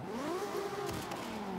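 Toyota Supra engine in the video game Forza 5, driven with a drift tune on the Silverstone track, revving hard with a rising and falling whine as it climbs and drops through the revs, loud and close.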